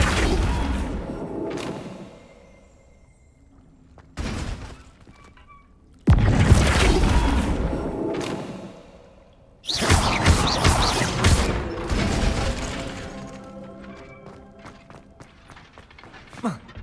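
A Flipendo spell from the video game Hogwarts Legacy strikes with crashing impacts: several loud bursts separated by quieter gaps, the last and longest crash trailing off into faint rumble.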